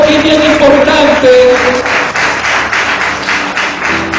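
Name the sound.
church congregation applauding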